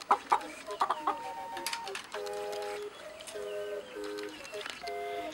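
Chickens, including a small young hen among bigger ones, clucking and peeping in quick irregular bursts with a few tonal calls, close and fairly loud throughout.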